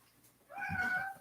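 A pet cat lets out one clear, close meow lasting about half a second, rising out of near silence, with no speech over it.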